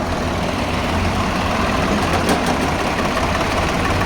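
A Swaraj 735 tractor engine runs at a tractor market in Moga, Punjab, a continuous close, loud, rough idling rumble with no talking.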